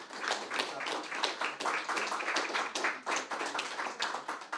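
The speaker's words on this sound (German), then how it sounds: "Applaus bitte für unsere Gäste." An audience at a literary talk applauds steadily, dense rapid hand clapping from many people filling the room at an even, lively level throughout.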